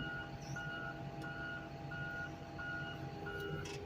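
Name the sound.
truck reversing beeps while backing up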